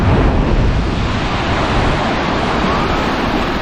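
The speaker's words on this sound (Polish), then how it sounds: "Fale dosyć duże." Heavy surf roars steadily, waves breaking continuously on a Malta beach in winter with wind rushing over the microphone, loud and close.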